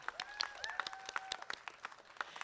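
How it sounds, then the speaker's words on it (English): Audience applause at an outdoor Pride flag raising ceremony in Pasadena, scattered hand claps with bright whistles rising over them, fairly quiet and steady throughout. "A huge round of applause to the San Gabriel Valley Pride Roundtable"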